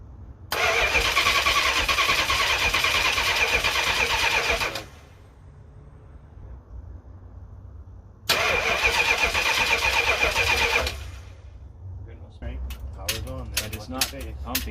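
A Mopar Dodge 400 big block engine, run on the ground for its first start in 20 years, cranks loudly in two long bursts, followed by sputtering firing and uneven catches as it tries to start.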